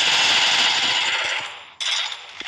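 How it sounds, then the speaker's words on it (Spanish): Free Fire gunfire comes as a rapid stream of shots that fades out, then a second short burst breaks in and trails off into a few scattered hits. "Están disparando aquí, miren ahí"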